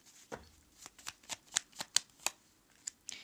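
Tarot cards being shuffled and handled, giving a series of about a dozen crisp, separate riffling snaps and slaps in fairly even rhythm, close up and alone with no talk.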